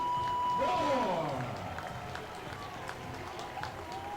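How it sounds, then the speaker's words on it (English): A baseball crowd at Fairfield Properties Ballpark gives a standing ovation for a Long Island Ducks hitter, with steady applause and cheering rising through the stands while a loud announcer's voice with a tone sweep rides over the top. "Standing ovation here at Fairfield Properties Ballpark."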